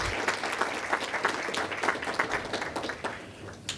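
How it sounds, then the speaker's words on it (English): A conference audience breaks into sustained applause, a dense wash of many hands clapping steadily throughout with no talking over it. "So please give Shawn a round of applause."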